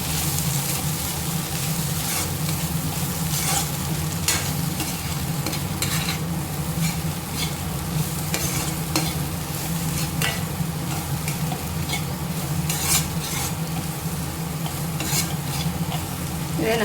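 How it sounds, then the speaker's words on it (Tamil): Bitter gourd stir-fry tossed in a pan with turmeric, cumin and coriander powders, a steady close sizzle broken by repeated scraping stirs throughout. "நம்ம சேர்த்துருக்க மசாலா தூளோட பச்சை வாசனை போகிற வரைக்கும் நம்ம கிளறி விட்டு எடுத்துப்போம்."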